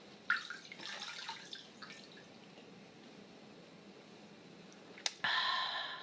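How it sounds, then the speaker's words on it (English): Water splashes against a face as makeup cleanser is rinsed off at a sink, with scattered wet sloshing early on, a quiet stretch, then a sharp drip and a louder steady run of water near the end, close by. "Now it's time to rinse off."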